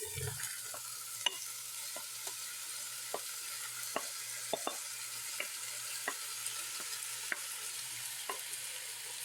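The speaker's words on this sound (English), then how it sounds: "I'm gonna go ahead and add my veggies." Vegetables fry in a pot under a steady low sizzle, while a utensil scrapes and taps the pot at a regular rhythm as they are stirred, close and fairly quiet with no talk.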